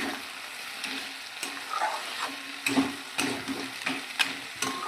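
Crab stir-fried in spices in a pan, with a steady oily sizzle and repeated scraping stirs of the utensil that come every half second or so, close and clear, with no talking.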